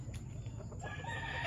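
Gamecock being held in the hands, giving soft clucking and throaty calls close by over a low background hum, faint and brief.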